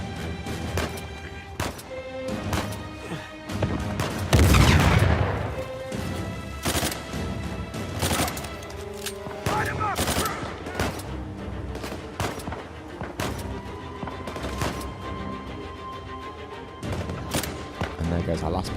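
Gunfire in Uncharted 4 as shots are peppered at a sniper, a rapid scatter of sharp sharp cracks across the span with a heavier burst near the start, mixed with game effects and music.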